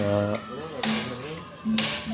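A mechanic hammers a new hub bearing into a car's hub by hand, with two sharp metallic strikes roughly a second apart, close and loud between quieter stretches.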